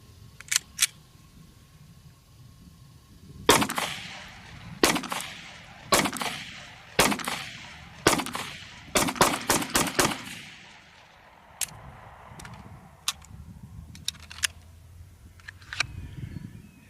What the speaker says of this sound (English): I'm going to go ahead and fire 5 shots with, no real pace, and then 5 shots with some sort of pace